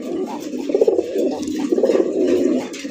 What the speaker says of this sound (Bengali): আর ডাকের দিক দিয়ে কিন্তু এই কবুতর জোড়া একদম ওস্তাদ বলতে পারেন, কারণ প্রচুর ডাকাডাকি করে